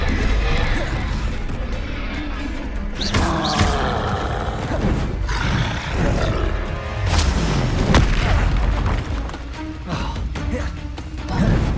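Spells cast in Hogwarts Legacy combat, including an Incendio fire spell, a busy run of loud booms, crashes and thuds with whooshing bursts that continue almost without pause, under a voice that calls out.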